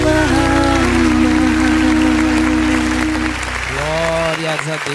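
Congregation clapping during a church worship service, steady clapping running throughout beneath sustained keyboard or organ tones and a voice speaking and singing.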